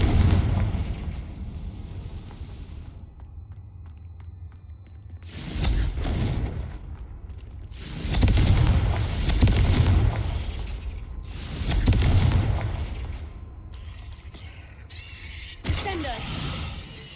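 Confringo fire spells burst in Hogwarts Legacy, several loud booming blasts that come a few seconds apart over a low, rumbling game backdrop, with mechanical creaks between them.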